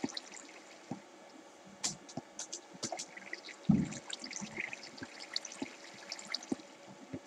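Flowing water trickles and babbles softly in Minecraft, with scattered small splashes and one louder low thump midway, all fairly faint.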